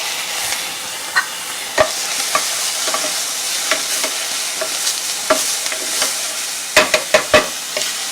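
Garlic stir-fried in a pan for cashew chicken with broccoli gives a steady, fairly loud sizzle, broken by sharp clacks and scrapes of a utensil stirring, clustered near the end, with no talking.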